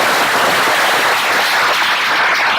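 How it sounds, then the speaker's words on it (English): Audience applause for conference panelists at a tech event, dense sustained clapping throughout, loud and filling the room. "I want a round of applause for our panelists."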